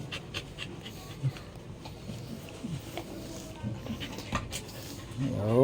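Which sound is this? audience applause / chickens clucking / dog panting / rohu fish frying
dog panting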